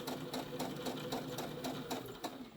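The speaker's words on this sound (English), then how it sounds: "I went forward a couple stitches, back a couple stitches, and now we're just going to go forward." A sewing machine stitches forward along a fabric credit card pouch, giving a steady rapid mechanical chatter of needle strokes at close range with no pauses.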